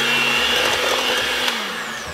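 An electric mixer beats cake batter with eggs and vanilla, giving a loud, steady whirring drone close by that holds evenly and eases slightly at the end.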